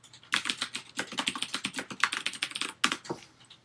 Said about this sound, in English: you want to type in team lead roster